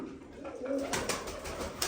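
Soft low cooing of a dove, a brief murmuring call close by over a faint background hum.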